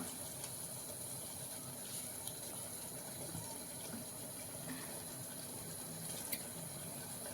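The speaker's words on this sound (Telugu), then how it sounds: "సో దీనికి నేను కొంచెం వాటర్ యాడ్ చేస్తున్నాను" Faint, steady stream of water pouring into a pressure cooker with eggplant, a soft continuous gush with no voices.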